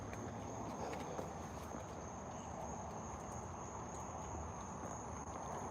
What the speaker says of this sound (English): See, these are crickets out here,